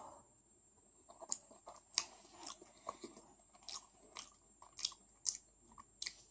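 Close-up chewing of French fries alongside a kebab plate, soft repeated crunchy bites and wet mastication at an irregular pace, quiet and intimate with no talking.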